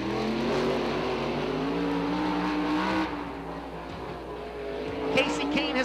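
Kasey Kahne's number four sprint car runs on a World of Outlaws dirt track at Bulls Gap, its steady engine roar loud and continuous throughout, easing slightly after the midpoint, with a voice talking over it.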